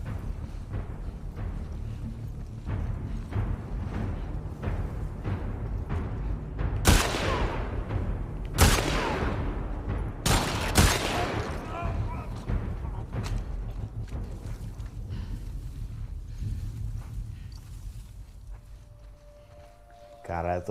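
Rapid bursts of gunfire in The Last of Us Part II, with several sharp, loud shots standing out over a steady background of game sounds and effects.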